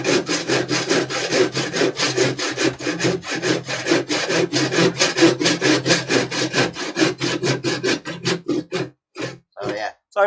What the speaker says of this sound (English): I'll quickly just saw it off, because I don't want to lose it.